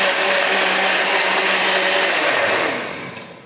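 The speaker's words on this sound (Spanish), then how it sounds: "Ponemos la tapa y licuamos." A kitchen blender whirs loudly, mixing a rose-flavored Valentine's breakfast drink. A steady high-pitched motor roar holds for nearly three seconds, then winds down as it is switched off.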